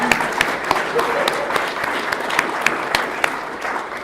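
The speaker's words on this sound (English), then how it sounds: "round of applause again for them" A crowd at a banquet applauds steadily, with dense clapping and a few sharper claps standing out, filling the whole stretch at moderate loudness.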